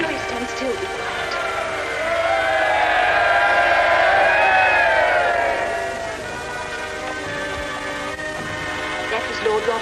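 A large crowd cheers and roars at a passing procession in early 1900s England, a broad swell of massed voices that builds to a peak in the middle and then fades back to a steady distant murmur.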